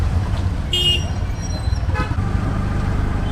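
Vehicle horn honks in busy road traffic in Bangalore, with a short toot near the start and another about a second later over a steady, loud rumble of engines.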